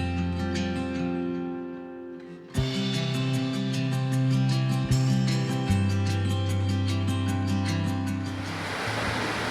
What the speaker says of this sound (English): Yeah, listen to those falls.